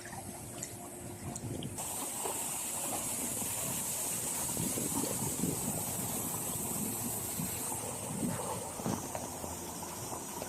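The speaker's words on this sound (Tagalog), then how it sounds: "Lakas ang hangin." Strong wind blowing steadily outdoors on an exposed spot, a dense broadband roar that stays loud and continuous throughout with gusty surges, alone without talk.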